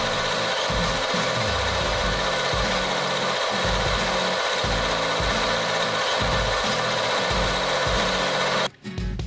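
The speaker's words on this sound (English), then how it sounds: "now I can take a fine cut across the shoulder face" A metal lathe takes a fine facing cut across the shoulder face of a brass clock pillar, a steady close machine hum and rasp running continuously with a regular low pulsing rhythm, cutting off abruptly near the end.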